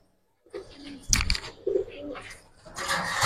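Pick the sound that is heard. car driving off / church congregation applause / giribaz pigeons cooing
giribaz pigeons cooing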